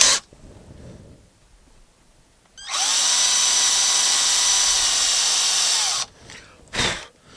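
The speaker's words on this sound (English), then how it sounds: "So the first drill is going to start off with is a 3mm drill" A 3mm drill bit bores into a Fender guitar neck, a steady high-pitched power-drill whine of about three seconds standing alone, framed by quiet handling before and after.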